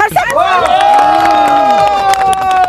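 A crowd cheering and clapping in a comic village sketch about a district governor, a loud continuous burst of voices with whoops and shouts over applause, lasting throughout.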